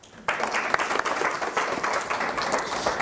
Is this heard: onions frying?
no